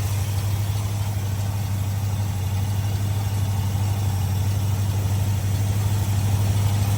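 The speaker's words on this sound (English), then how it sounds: "So that's why it's been idling really high." A Chevelle engine, warmed up with its fast idle linkage dropped back down, idles with a steady, even low hum and a constant drone, close and unbroken with no talking.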